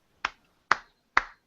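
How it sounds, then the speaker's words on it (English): Three slow, evenly spaced claps, sharp and close with short decays and silence between them, each about half a second apart. "slow clap"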